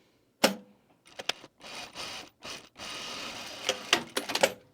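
A sewing machine stitches down the elastic casing on a fabric travel bag in short bursts, each run of rapid stitching separated by brief pauses, close and fairly loud with no voices.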